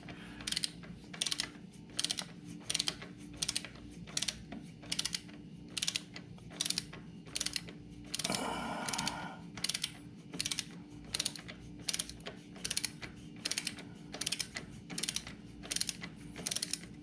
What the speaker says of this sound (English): Since that's all I have is an inch-pound torque wrench.